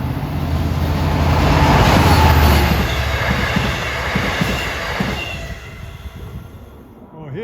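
LIRR train 698 from Long Island City to Port Jefferson approaches on the Main Line, a loud nearby rumble with rattling and squealing wheels that swells, then fades.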